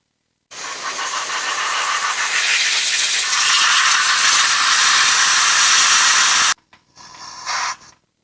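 Brake cleaner from an aerosol can hisses in one long, loud spray close by during clutch work on a Citroën C5, then stops abruptly and is followed by a couple of short, quieter bursts.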